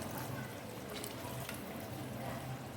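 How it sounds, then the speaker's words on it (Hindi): Water pours steadily into an arvi (taro root) masala gravy in a cooking pot, a continuous close splashing and gurgling stream that runs throughout without pause or talk. "आपने जितना शोरबा बनाना है उतना इसमें पानी डाल लें।"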